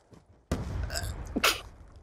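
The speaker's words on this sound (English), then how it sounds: "I gotta sneeze." A single sharp sneeze bursts out abruptly, followed by a breathy noisy tail and a second explosive puff, close to the microphone and otherwise fairly quiet.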